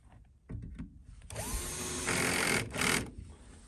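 A cordless screwdriver drives screws while a barn ceiling is insulated, short clicks and handling noise, then a close whirring spin-up that rises and stops abruptly.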